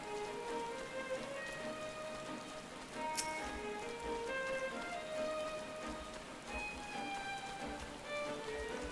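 Steady rainfall in the video game Final Fantasy XIV patters softly and evenly, joined by faint tonal game chimes and a brief bright accent partway through, with no talking.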